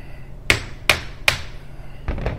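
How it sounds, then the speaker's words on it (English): Three sharp metallic hammer strikes evenly spaced, knocking an Audi Allroad CV joint off its axle shaft, followed by two softer duller knocks, close and clear. "On older joints, they should just pop off by using a hammer."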